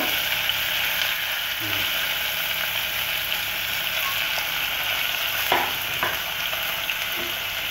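Potatoes, tomatoes and sausage are stirred in a hot pan for an Indian dish, giving a steady close sizzle with scraping spoon strokes and a few sharp clanks against the pan.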